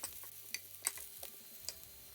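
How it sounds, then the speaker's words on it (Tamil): Tempering spices crackle and sizzle faintly in hot oil for Sri Lankan coconut sambol, with a few small pops and clicks over a soft, steady frying hiss. "இப்போ இதெல்லாம் பொரிஞ்சிட்டுது."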